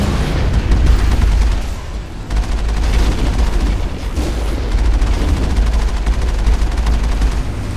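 Rapid, continuous gunfire rattles loudly while the Mako vehicle drives across a lava planet in Mass Effect, dense and sustained for several seconds with no break.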